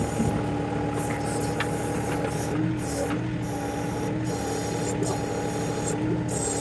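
A John Deere 2038R compact tractor with a 270B backhoe works a rock loose, its diesel engine droning steadily close by while hydraulic and metal clanks and ratcheting knocks recur throughout.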